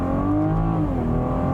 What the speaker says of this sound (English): The engine in general, the exhaust is so much more clear over here. Ooh, a little bit of burble there.